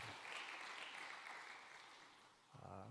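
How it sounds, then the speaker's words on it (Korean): Church congregation applauding during a Wednesday service, a steady broadband clatter of many hands that fades slightly toward the end before a brief louder burst at the close. "한나 여전도회 우리 다 같이 박수로 격려하겠습니다."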